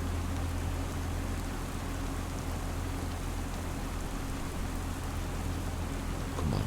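Heavy rain pours down steadily in the farming game Farming Simulator 25, a loud, dense, unbroken hiss with a low rumble beneath it and no voices.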